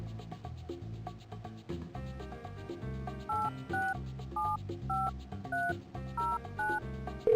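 A phone booth keypad in the Spy Fox game is dialed, a series of distinct touch-tone beeps following each other at a steady pace over soft background music.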